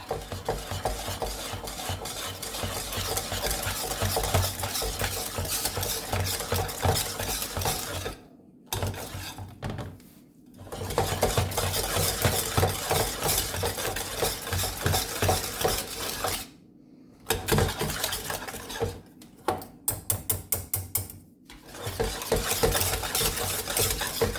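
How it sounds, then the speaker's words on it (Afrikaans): A wire whisk beats milk tart waffle batter in a bowl, giving a rapid, continuous clatter and scrape against the sides, broken by a few brief pauses, with no talking. "En dan gaan ons hierdie net gou weer goed deur klits met die draadklitser."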